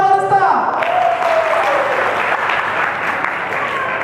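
An audience at a university stand-up comedy show breaks into loud, sustained applause, following a brief sung or spoken voice at the very start, with crowd noise filling the room.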